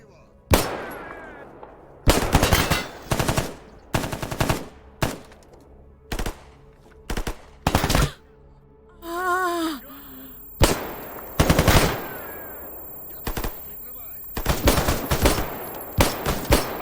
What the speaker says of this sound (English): Fire a couple of rounds off, land a few of them, and immediately almost get killed.